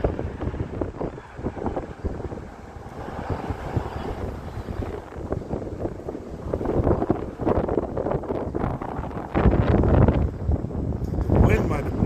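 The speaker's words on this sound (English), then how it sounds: "The wind might have blown him. It is blowing hard out here." Strong wind buffets the microphone outdoors, a rough gusting rumble that swells and fades across the whole stretch, with people talking over it.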